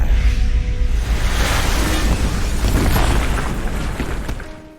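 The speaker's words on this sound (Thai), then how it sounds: "เรือหอกของคิวมะ คิงดอกจิก ก็ระเบิด ร่วงตกลงมา" An airship explodes and falls in a loud, sustained explosive roar with heavy low rumble, churning steadily before gradually fading away at the end.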